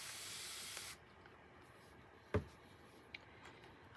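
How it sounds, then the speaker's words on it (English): A single short hiss of a spray bottle misting water onto acrylic ink at the start, then near silence with a faint click or two. "I'm going to spray a lot of water into it"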